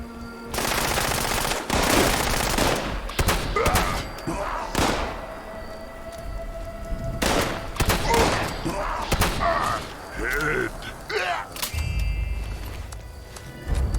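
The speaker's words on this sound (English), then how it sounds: "We were able to get off a bunch of shots real quick to that legendary super mutant" Double-barrel shotgun fire in the video game Fallout 76, a rapid series of loud close blasts in bursts with brief gaps between them, plus scattered thuds and game background noise.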